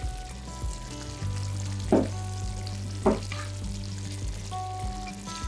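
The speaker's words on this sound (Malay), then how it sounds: "Terus masak sampai mendidih lebih kurang 5 minit." Sardine sauce simmering in a pan on the way to a boil, with a steady low sizzle and bubbling, a couple of brief louder stirring scrapes, and no voices.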